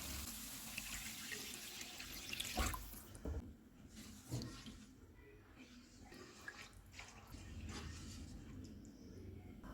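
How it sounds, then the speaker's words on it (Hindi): Water poured from a vessel into a pan of fried masala for aloo kofta curry, a steady splashing pour in a home kitchen with a brief clatter midway, close and fairly loud. "अब इसमें हम 2 कप पानी डालेंगे।"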